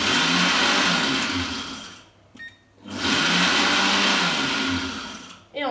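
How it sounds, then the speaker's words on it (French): A Cooking Chef food processor grinds spices in two loud, sustained whirring runs, close up, separated by a brief near-silent pause with a faint click. "on va d'abord faire 3 pulses, puis mixer jusqu'à ce que ce soit la mouture que je souhaite"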